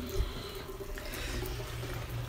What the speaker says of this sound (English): Oh, I left the cold water on.